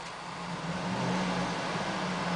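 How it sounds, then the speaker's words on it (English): A 2007 Cadillac Escalade AWD engine runs at idle, a steady low hum with a smooth even tone and broadband hiss, close and continuous with no voices. "the reason I'm doing that is just so you can see that the car is running"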